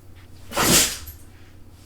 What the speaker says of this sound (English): My dog just sneezed herself awake.